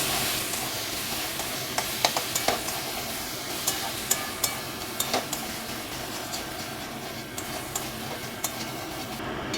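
Potatoes sautéing with spice paste in a pan for a chana dal curry: a steady close sizzle with scattered sharp clicks of a spoon against the pan, and no voices.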